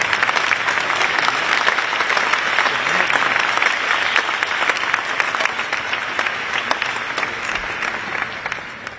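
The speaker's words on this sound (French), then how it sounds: "Si vous voulez, vous pouvez applaudir un peu," Dense, continuous applause from a crowd at the official invitation ceremony for the Paris Olympics, loud and steady throughout with little letup.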